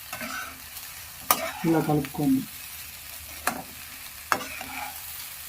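Puffed rice uggani being stirred together with chickpeas in a pan for a Rayalaseema-style dish, several short scraping and clattering bursts with a faint sizzle, a brief word spoken partway through.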